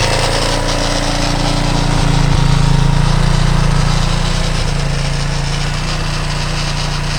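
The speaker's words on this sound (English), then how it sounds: "This will be the first time this engine's been running in quite a few years." A 230 engine swapped into a CTX200 motorcycle frame idles steadily and loudly up close, running with no load on the transmission after new rings and a hone, with a constant low rumble and rattling mechanical clatter throughout.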